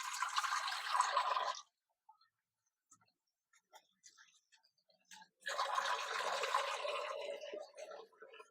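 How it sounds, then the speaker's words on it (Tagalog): Salted bitter gourd (ampalaya) rinsed under running water, two bursts of splashing flow at the start and end framing a quiet stretch of small clicks and drips, close and moderately soft. "Babalnawan natin yung ampalaya kasi maalat ito pag hindi mo binalnawan."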